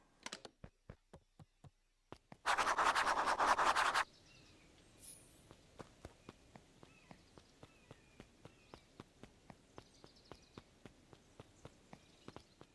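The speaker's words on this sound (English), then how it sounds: "Luca heard a group of footsteps approaching" Evenly paced footsteps tap closer and closer in a quiet setting, interrupted by a short loud burst of noise before the steps continue.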